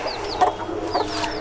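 A mature silver laced bantam chicken clucks close by with short, sharp, repeated calls over a faint background of other birds. No one speaks.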